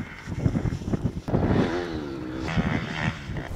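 A 2018 TM Racing MX 250 FI fuel-injected motocross bike revs and pulls across off-road terrain, its engine note rising and falling in close, loud bursts.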